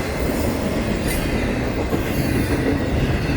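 A Florida East Coast Railway freight train rolls past close by, a loud, steady rumble of wheels on rails with a faint metallic squeal.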